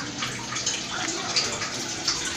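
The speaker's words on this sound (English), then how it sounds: "As you can see, water is coming out." Water draining out of a Ramtons 10 kg single tub washing machine, a steady close gushing and splashing flow that continues without break, with faint background voice.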